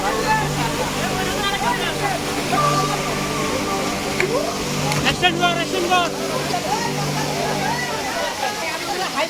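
Khoyachora waterfall pours in a steady, loud roar of rushing water that fills the whole scene, with voices of people talking and calling faintly mixed in throughout.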